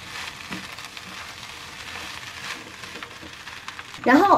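Egg fried rice being stir-fried in a wok, a soft continuous sizzle with light scraping and tossing, then a louder burst of sizzle near the end.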